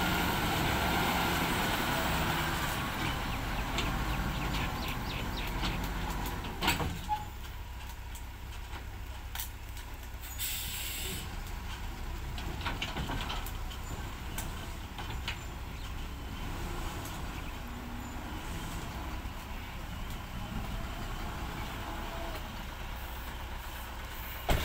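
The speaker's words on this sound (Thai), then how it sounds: "รถพ่วงมาแล้วครับ พ่วงมาเอาลูกรังแล้ว" A Hino Mega trailer truck arrives to load laterite, its diesel engine rumbling steadily nearby for the whole stretch, with the loud low drone easing after a few seconds into a continuous idle-like growl.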